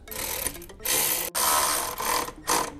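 A socket ratchet and a wrench tighten a nut during a cold air intake install on a 2015 Infiniti Q50. Several short bursts of rapid clicking come up close, separated by brief pauses.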